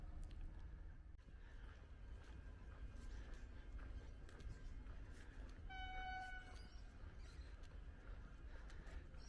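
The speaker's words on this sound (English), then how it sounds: "So this is the Geelong bound from Melbourne regional train." Geelong-bound regional train from Melbourne rumbling past steadily at moderate distance, with a brief horn sounding about two-thirds of the way through over the continuous rail noise.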